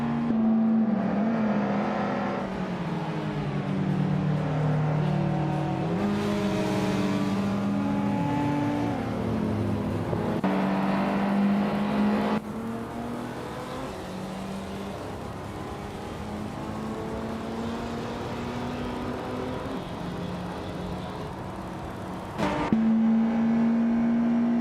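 Race cars circle the Mont Tremblant circuit with a continuous engine drone, rising and falling in pitch through upshifts and downshifts, with one car's tone jumping back up near the end.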